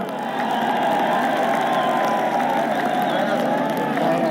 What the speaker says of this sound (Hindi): इनको तालियां बजा के इनका खैर मकदम करो